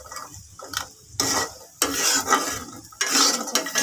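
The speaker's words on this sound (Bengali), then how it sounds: "এই যে হালকা একটু ভেজে নিচ্ছি কুমড়া বড়ি" Pumpkin lentil dumplings (kumra bori) fry in oil in a pan, with loud scraping stirs and clattering utensil strokes in bursts over a sizzling background, close and without talk.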